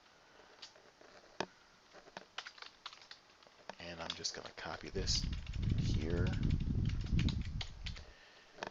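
Scattered clicks of typing on a computer keyboard tap out at an irregular pace, then someone talks close to the mic as a few more keystrokes sound beneath his voice.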